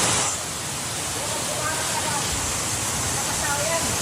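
A waterfall in Palawan roars in a steady, full rush close by while people chat in Tagalog over it.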